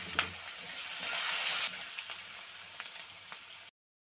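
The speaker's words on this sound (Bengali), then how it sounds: "পেঁয়াজটা ভাজা হয়ে গেছে" Chopped onion frying in hot oil with cumin seeds, whole garam masala and bay leaf gives a steady, close sizzle with faint stirring clicks, swelling briefly before cutting off abruptly; no one speaks.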